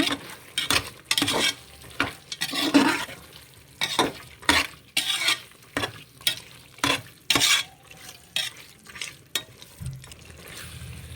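Biryani masala with chili powder and coriander powder is stirred in a pot, giving rhythmic scraping strokes roughly every half second over a soft sizzle, close and loud with no talk.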